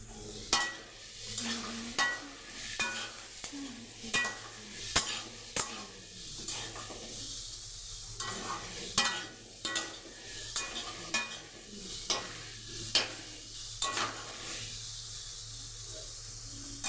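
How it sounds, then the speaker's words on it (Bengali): Raw green banana frying in a pan gives a soft, quiet sizzle, broken by regular scrapes and knocks of stirring across the stretch, with no voices over it. "খুব ভালো করে আমি আগে কাঁচকলাটা ভেজে নেব।"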